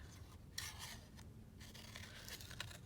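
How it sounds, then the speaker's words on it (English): Scissors snip through paper as a small flower is cut out, close quiet crisp cuts and rasping slides coming in short irregular bursts. "I'm going to cut out this little flower here"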